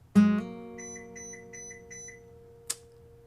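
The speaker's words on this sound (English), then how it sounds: "And I got a text message." A phone chimes with a text message alert: a bright tone rings out, followed by a quick run of repeated high beeps, then a short sharp click, set against a quiet room with a few lingering guitar notes.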